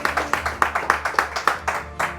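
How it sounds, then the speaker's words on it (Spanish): A church congregation claps in unison, a steady, even rhythm of about nine sharp claps over a low background hum. "vamos a darle un aplauso a Dios"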